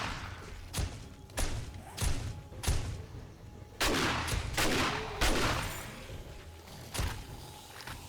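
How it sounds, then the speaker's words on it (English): Heavy shotgun blasts from the video game 7 Days to Die, fired downstairs, boom one after another at irregular intervals, each a loud thud with a short decaying tail. "I can hear my shotgun shooting downstairs"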